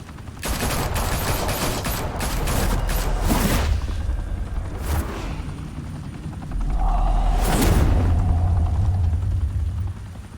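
Gunfire in the Batman Telltale game The Enemy Within, loud bursts of shots rattling over a heavy droning rumble like a helicopter, with booming impacts and a pause before the roar swells again.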